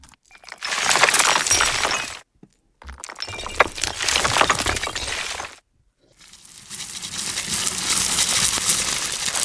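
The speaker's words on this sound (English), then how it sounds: "In our Foley category, we've added in these sort of ceramic and rock presets." Ceramic and rock breaking Foley presets in Krotos Studio: three loud bursts of shattering, crunching debris separated by brief silences, the last a longer sustained crumbling.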